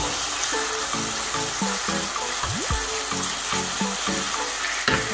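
Chopped peppers frying with golden brown onions in a pan over a village cooking fire, a steady close sizzle with a few stirring scrapes and brief clinks running throughout.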